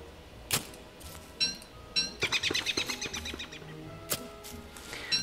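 Chirping birds in the survival video game Don't Starve: scattered short bright calls, then a quick run of rapid, evenly spaced chirps, followed by a few more isolated tweets over a soft ambient background.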